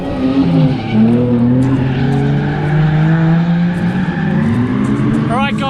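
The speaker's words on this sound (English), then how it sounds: "taking the AU out for a few laps." A Ford AU Falcon drift car on track runs steady, loud engine drone with revving pitch sweeps and tyre squeal, continuous throughout and close by, with a short chirp near the end.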